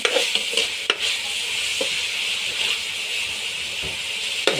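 Chopped onions for a pasta dish cook in a pan over a flame, with a constant hissing sizzle and several distinct scrapes and knocks of a spoon stirring against the pan.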